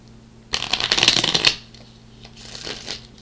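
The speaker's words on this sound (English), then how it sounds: "we've just got one more shuffle to go" A quick burst of tarot cards being riffled and shuffled, crisp and close, followed by softer shuffling sounds after a brief pause.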